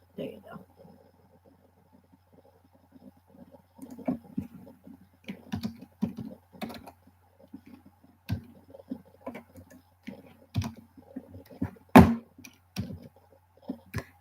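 Computer keyboard being typed on in an irregular stream of light clicks and taps, close to the microphone, with a brief louder knock and occasional quiet speech mixed in.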